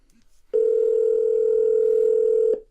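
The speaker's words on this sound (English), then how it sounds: "And here you can see we're making a phone call to my buddy Reginald." A steady, loud single-pitch calling tone sounds through a Pioneer NEX car receiver as an Apple CarPlay phone call is placed, holding unbroken for about two seconds after a brief quiet start.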